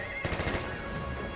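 A horse whinnies briefly in the Battlefield 1 video game, a short rising cry over faint background game noise.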